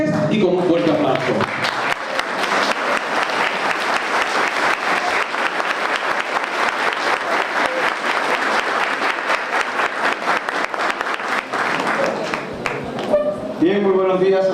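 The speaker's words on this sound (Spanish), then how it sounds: "lo recibimos de pie y con un fuerte aplauso" Audience in a formal hall applauds standing to welcome Attorney General Francisco Domínguez Brito, a loud, sustained wave of clapping lasting most of the stretch, with a voice speaking briefly before and after it.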